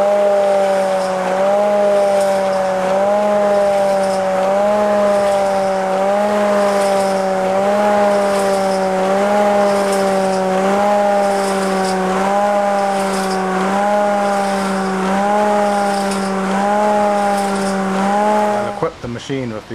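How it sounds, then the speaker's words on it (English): A gravity return dynamic rowing ergometer runs steadily, its machine rolling up and down a slope on each stroke, giving a rhythmic whirring hum that rises and falls about every second, close and continuous. "You pull on the handle, pulls the machine up the slope, and the recovery, the machine goes back down the slope."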